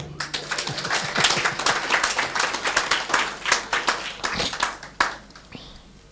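Audience clapping during a talk on critical thinking, a crisp, fairly rhythmic patter of many hands, close and moderately loud, with a sharp louder clap near the end before it thins out.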